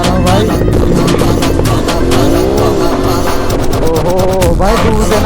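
An Aprilia RS 457 motorcycle fitted with a loud SC Project exhaust roars continuously and close by, its revs rising and falling in sweeping pitch with sharp crackling bursts near the end.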